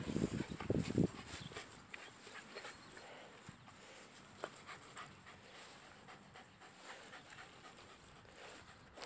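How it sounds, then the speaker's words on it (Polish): Two well-behaved dogs pant rapidly and audibly close by, breathy huffs strongest at the start and then continuing more softly, with light shuffling movement in the background. "Bardzo grzeczne pieski."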